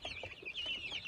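Young chicks kept penned indoors give a faint, continuous chorus of high peeping and soft clucks, close by and otherwise quiet.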